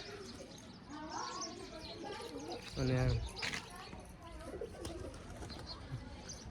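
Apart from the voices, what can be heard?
pigeons cooing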